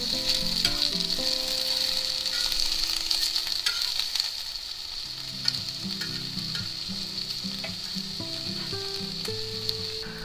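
Onion frying in a pan, a loud, steady, close sizzle with faint stirring scrapes, running unbroken throughout beneath quiet background music.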